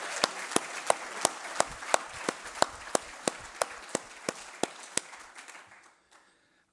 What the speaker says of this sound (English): I'd like to lead some applause to all of you who contributed